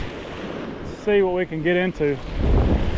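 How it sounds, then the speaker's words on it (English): A strong east wind blows on a coast while fishing for flounder, a steady rushing buffet of noise against the microphone, with someone speaking briefly over it and the gusts swelling louder after he stops. "It is windy, it's blowing straight out of the east"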